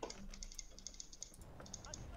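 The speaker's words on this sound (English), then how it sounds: "Scottish, we can constantly hear your clicking." Rapid keyboard clicking picked up over online voice chat while playing Wargame Red Dragon, a steady run of sharp close keystrokes with faint background noise and no clear talk.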